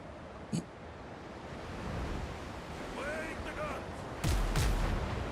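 Ship cannons fire in the pirate game Windrose over steady ocean surf and wind: one short distant boom early on, then a heavier, louder blast near the end, with brief voices in between.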